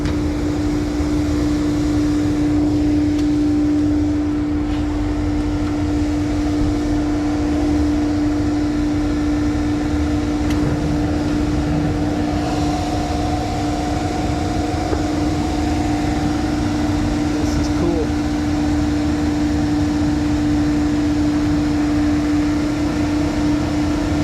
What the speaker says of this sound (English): It is the auto format dry brush system.